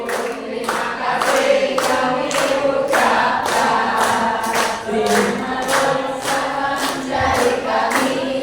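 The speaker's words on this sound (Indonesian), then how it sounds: "Sekali lagi beri aplaus yang meriah untuk Bunda Ina." An audience of teachers at a writing workshop gives Bunda Ina a hearty round of applause, steady rhythmic clapping in unison, loud and close, running throughout with no speech.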